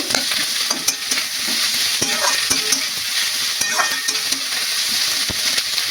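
Chopped bottle gourd peels with slit green chillies being stirred as they fry in a pan, a loud constant sizzle with frequent spatula taps and scraping close up, no speech.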